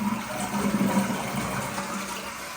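A toilet flushes nearby, a steady rushing gush of water with a low gurgling hum that holds at a constant level throughout, with no voices over it.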